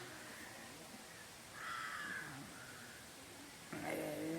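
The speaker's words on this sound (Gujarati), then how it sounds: "અહીંયા કાગડાનો અવાજ કાંવ કાંવ થયા રાખે છે" Crows caw at Sakkarbaug zoo in Junagadh, a few harsh calls at moderate distance, rising over a steady background hum.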